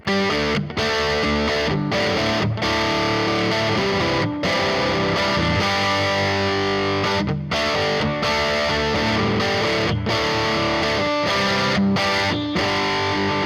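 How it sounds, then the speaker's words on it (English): An electric guitar played through a Vox wah pedal and distortion during an improvised jam, a loud sustained distorted tone with sweeping wah colour and rhythmic chord stabs broken by brief clipped pauses. "that's the Vox wah pedal and my just normal, just regular, just distortion"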